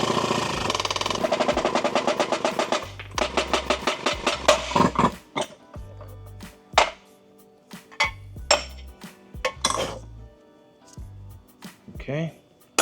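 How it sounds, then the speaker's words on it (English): Pressing a wheel bearing into a steering knuckle on a 2006 Acura TSX produces repeated metallic clanks and hydraulic press pumping in bursts, close and sharp with quiet gaps between strokes. "the first thing we're gonna do is to press in our wheel bearing into the knuckle"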